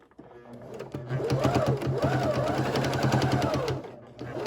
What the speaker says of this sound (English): Okay, so I'm gonna go ahead and stitch this together.